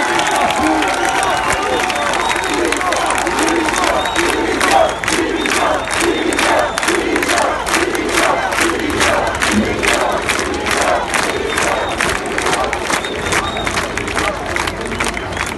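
A huge protest crowd in France chants and shouts in loud rhythmic waves, with clapping and cheering over a continuous roar of voices.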